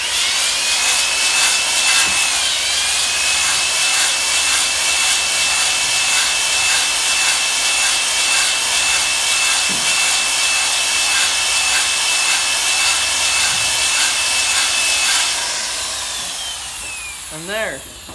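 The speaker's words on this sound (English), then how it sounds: "I start the ball hone." A ball hone works inside a Cummins engine cylinder, putting a cross-hatch into the bore: a steady, loud whirring grind runs unbroken for about fifteen seconds, then winds down and stops near the end.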